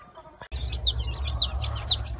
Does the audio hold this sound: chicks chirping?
yes